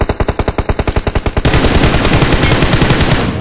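Automatic gunfire in the mobile shooter BGMI: a loud, close burst of about a dozen evenly spaced rapid shots, then a denser continuous stream of fire with no pauses, no talking.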